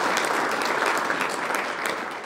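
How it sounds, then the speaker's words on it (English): Sustained applause from the audience at a chamber of commerce luncheon, a dense, steady wash of clapping that stays loud from start to finish. "So give yourself a round of applause."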